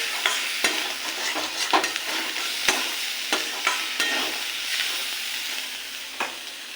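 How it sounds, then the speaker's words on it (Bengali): Raw prawns are sautéed in a pan with a steady, close sizzle and regular sharp stirring knocks of a utensil against the pan, several seconds long with no talking. "চিংড়ি মাছটা এবার কষিয়ে নেবো।"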